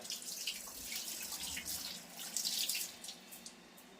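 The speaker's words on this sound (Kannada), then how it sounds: "ಫಸ್ಟ್ ನಾವು ಫಸ್ಟ್ ಕೈ ತೊಳ್ಕೊಬೇಕು" Steady hiss of running tap water with splashing and small drips, as if hands are rinsed under the stream; no voices.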